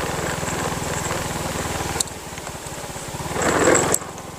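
A small motorcycle engine idles with a steady low putter in an outdoor setting early in the morning, briefly rising in revs near the end.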